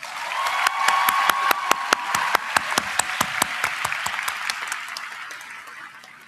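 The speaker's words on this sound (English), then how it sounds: "He's zooming in, so we'll have to clap loud, but please join me to congratulate the Pennsylvania Leadership Charter School's 2026 salutatorian, Zachary Cohen." A graduation crowd at a charter school commencement claps to honor the salutatorian, with sharp, regular camera-near hand claps standing out over a broad, steady wash of applause that slowly thins toward the end.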